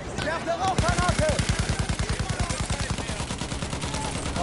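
Rapid automatic weapon fire in the World War I shooter Battlefield 1, a long loud burst of evenly spaced shots at close range, with brief game voices at the start.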